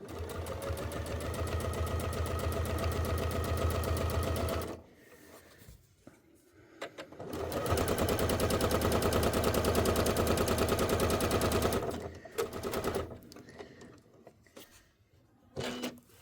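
A sewing machine free-motion stitches the outline of an applique, running in two long rapid bursts of close rhythmic needle chatter separated by a pause with soft handling noises, then brief stops and restarts near the end.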